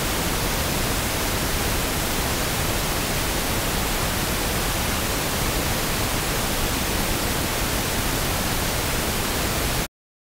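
Continuous, even pink noise hiss at a steady level for about ten seconds, then an abrupt stop.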